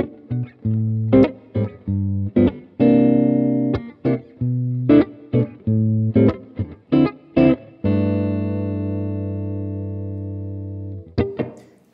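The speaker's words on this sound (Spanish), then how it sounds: "vamos a escuchar esta guitarra en sonidos limpios y con un poco de distorsión" A PRS SE 245 Standard electric guitar plays alone, starting with crisp plucked single notes and short chords in a halting rhythm, then a long sustained ringing chord that fades before a final brief strum.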